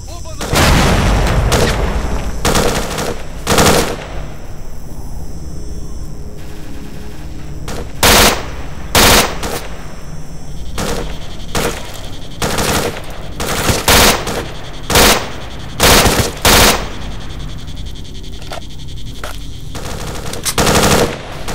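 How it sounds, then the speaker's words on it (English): Heavy gunfire in the S.T.A.L.K.E.R. Shadow of Chernobyl video game, with sustained automatic bursts and sharp repeated shots sounding loud and close throughout, against a rumbling background. "Are you guys shooting at me or someone else?"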